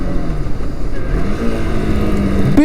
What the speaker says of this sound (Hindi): एक बार खींच के और क्लच गियर उतार के देखते हैं